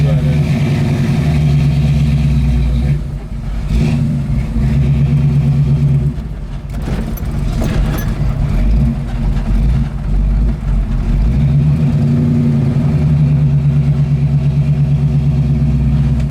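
A 1973 Ford Mustang Mach 1 engine idling with a loud, deep, steady rumble close by, dipping and swelling briefly a couple of times.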